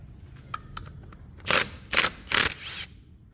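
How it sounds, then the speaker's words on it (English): A 12 mm socket wrench working nuts and washers off the front brakes of a 1984 Toyota pickup with a solid axle: light ticks, then three loud, sharp ratcheting bursts, close and alone. "Now I'm going to grab my 12, take all these nuts and washers off."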